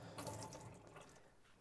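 A water tap runs into the sink of a Dethleffs Globe 4 motorhome, making a soft, steady splashing hiss that sounds faint and slightly distant.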